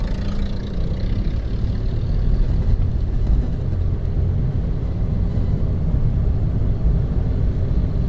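An automatic car drives off from a stop and shifts up through its gears, a steady, close engine rumble with low road noise continuing throughout and no clear separate shift clunks.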